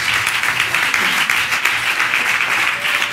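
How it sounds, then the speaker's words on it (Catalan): An audience applauds as a young woman named Laura is called up at a talk on juvenile justice, a dense, steady wash of clapping that stays loud and even throughout. "fora aplaudiment"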